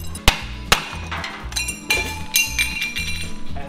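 Someone strikes a stuck part on a 1942 Chevy hot rod with a hammer during disassembly: two sharp metallic clinks near the start, followed by clattering and rattling of loose parts close by.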